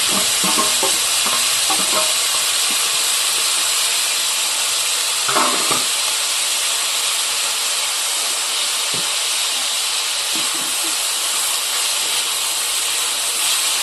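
Cauliflower fry sizzles steadily in a hot pan with a constant hissing bed, while a utensil stirs and scrapes in a few clustered knocks near the start and middle; no voices.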